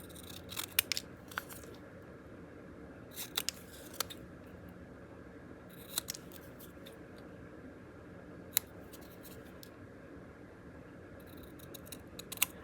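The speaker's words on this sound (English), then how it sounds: "I love these scissors, by the way." Small, sharp scissors snip through a label in quick clusters of crisp, close cuts separated by quiet pauses.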